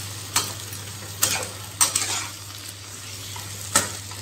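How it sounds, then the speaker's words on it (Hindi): Pointed gourd (parwal) sizzles in a pan while a spatula stirs it, giving a low constant fry under four or five distinct clacks of the utensil. "अब हम इसको मिक्स कर लेंगे, इसको हमें भूनना है अच्छी तरह से"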